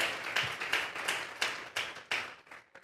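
Hands clapping together in a church service, a quick steady rhythm of sharp, fairly soft claps with no talking.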